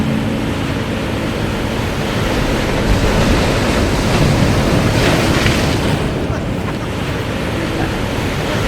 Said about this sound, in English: maybe I'm taking slow motion footage of the ocean in the morning at Fishhook Beach